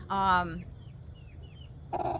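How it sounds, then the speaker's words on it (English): Roosters on a farm give a loud, close clucking call, then fall quiet under faint chirping before a second short cluck near the end. "So I'm going to be rehoming some of these roosters"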